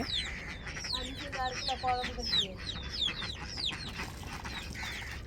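Several hens cluck and chatter close by in short repeated calls at a farmyard where ducks and chickens are let out, with a soft murmuring background throughout.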